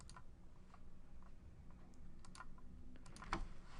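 Typing on a computer keyboard while entering a property search, soft scattered key clicks at an uneven pace over quiet room tone, with a slightly sharper tap near the end.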